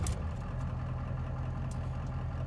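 A 1988 Ford 7.3 diesel engine idles steadily up close, a deep, even low rumble with a constant chugging pulse running unbroken through the whole stretch, no voices over it.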